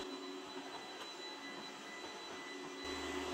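A Cecotec Conga Eternal Pet robot vacuum cleaner runs with a steady, close whirring hum that holds evenly throughout, swelling slightly toward the end, with no talking.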